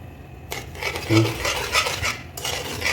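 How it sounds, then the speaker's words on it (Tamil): A utensil scrapes and clinks against a pan as melting sugar for sohan halwa is stirred continuously, the close, busy scraping strokes running without a break. "நீங்கள் கலக்கிக்கிட்டே இருக்கணும், இல்லாட்டி அடியில் பிடிச்சிக்கும்"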